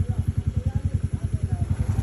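A motorcycle engine running close by, a fast, even chugging pulse of low thumps, loud and steady for a couple of seconds.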